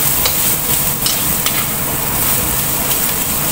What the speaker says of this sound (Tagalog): Ayan, i-fry muna natin ng konti.